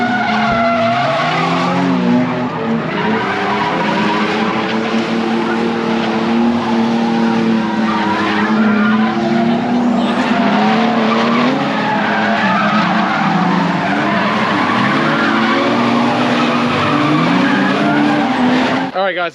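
A car drives hard and skids around a race track at night, with loud, continuous tire squeal over a revving engine throughout and voices talking beneath.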